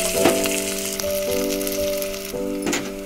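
Onions frying in refined oil with panch phoron, giving a soft, steady crackling sizzle close by, with a sustained tonal hum layered over it.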